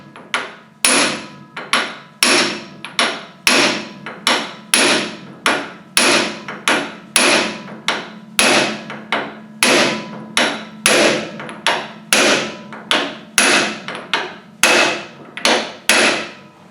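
Hammer blows on metal while working out a snapped bolt, a long run of sharp, loud strikes at a steady rhythm, roughly one per second with a few quicker doubles, each ringing briefly before the next.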